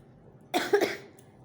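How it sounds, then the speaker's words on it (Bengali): A short, close cough of two quick bursts from a person after bathing on a rainy day, alone in an otherwise quiet room. "স্নান করে আসার পর থেকে কাশি শুরু হয়ে গেছে"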